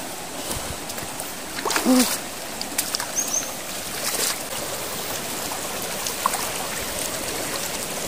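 A river flows beside the bank near Batunangan in Sidodadi, giving a steady close rush of water with a few brief splashes and faint movement sounds over the constant wash.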